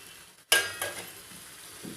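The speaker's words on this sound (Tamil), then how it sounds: "போட்டு நல்லா கிளறி விடலாம்." Spice powders stirred into Guntur-style chicken in a pan: a sharp clink of a utensil against the pan, then a soft sizzle and scraping that fade into quiet cooking noise.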